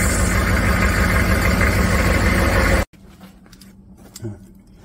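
A HMMWV (Humvee) engine idles loud and steady, filling an enclosed space with dense mechanical noise, then cuts off abruptly, leaving faint background sounds and a brief knock.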